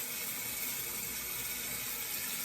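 Warm water runs steadily from a tap into a sink while a makeup brush is swirled under it, a continuous close hiss and splash without pause.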